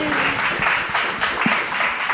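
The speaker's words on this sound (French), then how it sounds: "On peut l'applaudir pour l'encourager" Studio audience clapping for a guest on a French television show, a moderate, even patter of many hands with a faint voice briefly underneath.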